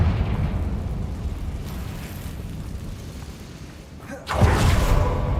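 A Confringo explosive spell goes off in the Hogwarts Legacy video game: a sudden, loud blast that bursts out of a low rumbling background near the end and then trails off with debris-like noise.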